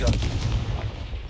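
A Confringo fire spell explodes in Hogwarts Legacy, a short, deep booming blast with a rumbling low-end burst that fades quickly, heard close and alone.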